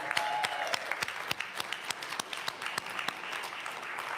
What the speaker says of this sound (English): Let's give Nick another round of applause.